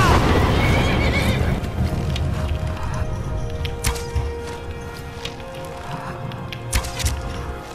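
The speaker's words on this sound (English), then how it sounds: "Chasing my horse." A horse in the video game Skyrim, chased during play, gives a loud whinny up close followed by quieter shuffling and faint clip-clop of hooves as the sound fades.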